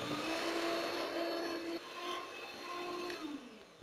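Biscuit batter with vanilla and vinegar being whisked in a bowl, a steady mechanical whir with a faint tonal hum that shifts pitch midway, close and continuous without talk.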